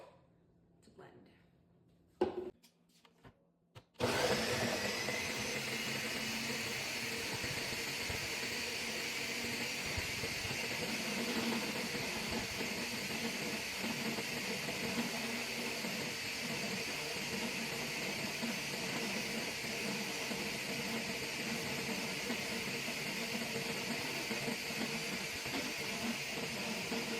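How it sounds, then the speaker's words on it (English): After a few handling knocks, a blender whirring rib marinade ingredients kicks in and runs as a loud, constant, hissing drone for over twenty seconds. "I'm gonna go put this to blend."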